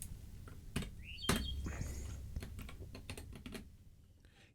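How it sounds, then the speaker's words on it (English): Someone types hard and fast on a computer keyboard, with close, sharp keystrokes in uneven bursts that gradually soften toward the end. "sorry if you hear me banging on my keyboard, because again, I'm quite a typer and that's how I type."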